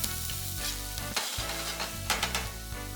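Chopped ginger and garlic sizzle loudly in hot oil over a flame, a steady bright frying hiss with occasional stirring scrapes, no voices.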